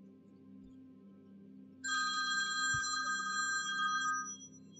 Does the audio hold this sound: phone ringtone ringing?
yes